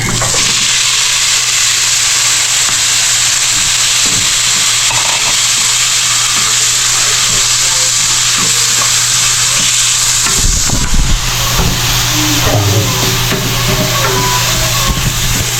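Chicken sizzling and frying in its own rendered fat in a pan for a home-cooked lunch dish, stirred now and then with scraping clatters; a steady close crackle runs throughout with no talking.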